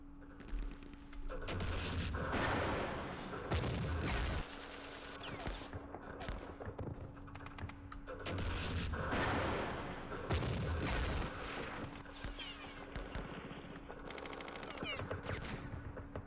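Gunfire and artillery in a Vietnam war strategy game set at Dien Bien Phu, quiet repeated bursts of machine gun fire and dull booms in rolling waves, heard at a distance.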